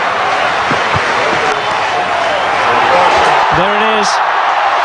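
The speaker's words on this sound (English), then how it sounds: "if he does go to 100, this crowd will erupt" Cricket crowd at a packed stadium for South Africa vs Australia in 2006, roaring loudly and steadily as a batsman reaches his hundred, with a commentator speaking briefly over the din.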